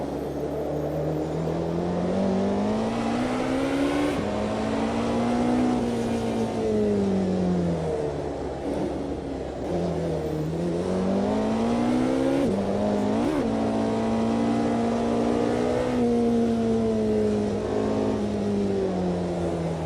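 A Porsche 918 engine howls continuously as the car drives a bumpy California highway in the Automobilista 2 game. The pitch rises and falls repeatedly through gear changes and throttle lifts, loud and unbroken, with no talk.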